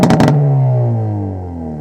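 A Hyundai i30 N sedan's exhaust gives a quick burst of crackling pops on overrun, then a loud engine note that slowly falls away as the revs drop, heard close up.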